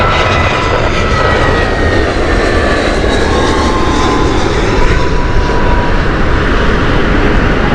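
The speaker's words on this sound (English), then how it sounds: "But let's watch the BA's Airbus A319." A British Airways Airbus A319 jet at Heathrow Airport roars loudly and continuously, with a broad engine rumble and a high whine, close and sustained as it passes.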